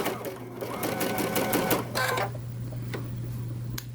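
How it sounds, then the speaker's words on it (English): A Baby Lock sewing machine stitches a quilt with a steady mechanical hum and rapid needle chatter for about two seconds, then slows and stops with a few faint clicks. A voice talks over it. "I have not really found that it's a disadvantage on my baby lock to stitch vertically either"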